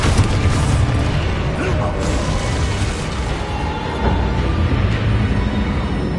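Confringo fire spell explosions in Hogwarts Legacy, a dense, loud wash of booming blasts and crackling magic over continuous battle noise.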